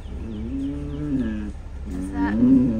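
Bulls in a field beside a quiet rural road give two long, deep, wavering moos, one after the other, loud and close with steady breeze or road noise underneath.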